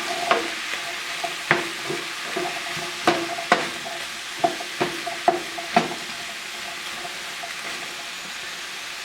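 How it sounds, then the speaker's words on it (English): Beans sizzle and fry in a pan while a spoon stirs them, scraping and clacking in irregular knocks over a steady bed of hissing, fairly close with no voices. "Stir this all up."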